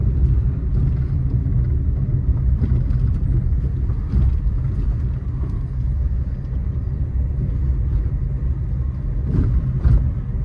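A car moving in second gear with the clutch released gives off a steady, loud engine and road rumble that continues throughout with no talking.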